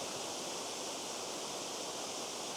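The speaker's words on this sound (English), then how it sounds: "And now it's just a waterfall to take a picture of it." Tianna Falls roars steadily as a continuous, even rush of falling water, close and fairly loud with no variation and no voices over it.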